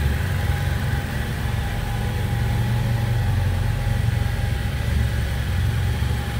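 A BMW F700GS motorcycle engine, 2016 model, runs steadily at idle with a low, even rumble throughout, close and unbroken, with no voices over it.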